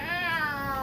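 A person imitates a cat in a tabletop game session, giving a single drawn-out meow-like vocal wail that slides slightly downward, close and fairly loud.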